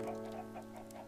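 Chickens cluck in the video game Minefields, a steady overlapping patter of several birds at moderate level, with no talk.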